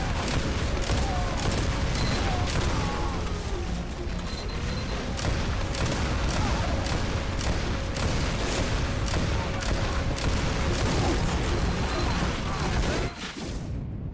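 Rifle shots in the Team Fortress 2 video game ring out as a long run of sharp, evenly spaced cracks over busy, loud combat noise, continuing for over ten seconds before stopping abruptly.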